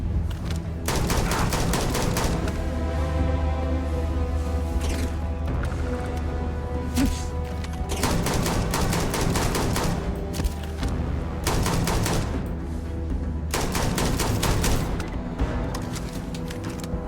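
Weapon firing in Starfield: Shattered Space, loud rapid automatic bursts in several long strings separated by short gaps, close and prominent over a steady low game hum, with no talking.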